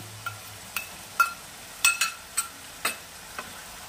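Green chilli paste going into a pan on high flame for a chicken curry, heard as a run of sharp, separate ticks and light scrapes at an uneven pace, fairly faint and close, with no talking.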